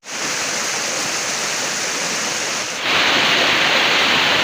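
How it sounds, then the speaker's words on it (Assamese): Shivkunda waterfall near Nagaon, Assam roars with a loud, steady rush of falling water, a constant broadband wash that swells louder midway through as if drawing closer. "এটা শব্দ খুব সুন্দৰ শব্দ জলপ্ৰপাতৰ শব্দ আহি আছে"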